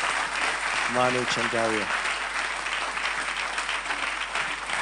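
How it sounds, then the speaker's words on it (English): Steady audience applause welcoming Manu Chandaria to a fireside chat fills the whole stretch at an even, dense level, while a voice briefly speaks over it near the start. "join me in giving a huge round of applause to"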